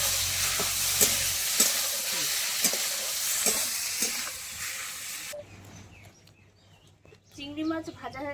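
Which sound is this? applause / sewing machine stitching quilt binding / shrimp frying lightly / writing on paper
shrimp frying lightly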